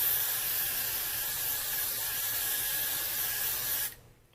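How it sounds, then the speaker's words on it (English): A steady hiss of Got2B hair spray from an aerosol can, loud and close, runs for several seconds, then cuts off abruptly. "So let's go ahead and spray."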